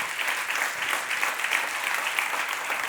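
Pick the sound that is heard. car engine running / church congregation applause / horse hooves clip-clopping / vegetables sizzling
church congregation applause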